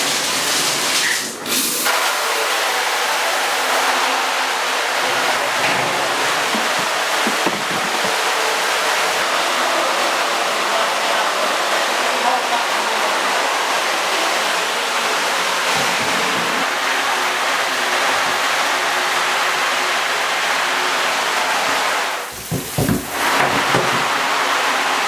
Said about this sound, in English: So you're going to put it on just like a warm water, not very hot, and turn the shower on.